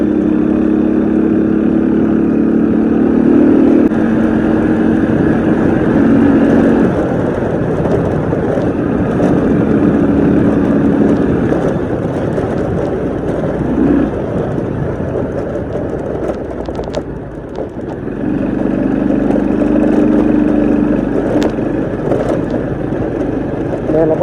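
A motorbike ridden along a rural road toward an Akha hill-tribe village, its engine droning steadily up close with rises and dips in pitch as it changes speed, joined by wind and rattling.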